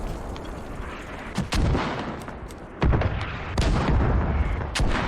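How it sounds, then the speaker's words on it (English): An artillery barrage falls on a tank battlefield in a video game: a string of sharp, loud blasts at irregular intervals over a steady rumbling roar, with no talking over it. "HSR pulled in another early barrage on Central"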